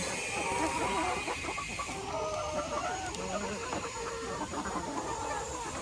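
Many hens clucking together in a small poultry house during egg collection, a dense, continuous chorus of overlapping clucks close by at steady volume.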